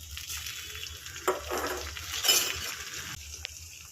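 Chutney and tomatoes hitting onions in a hot pan give a close hiss and sizzle with stirring scrapes and a couple of light clinks, fairly quiet and steady with brief louder bursts.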